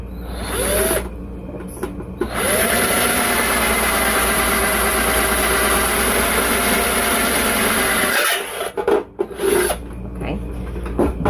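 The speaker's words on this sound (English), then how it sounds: "I'm trying to let the drill actually do the work for me" A power drill boring through a plastic light shade whines and grinds steadily for several seconds, a continuous rasping bore that cuts off briefly near the end and resumes.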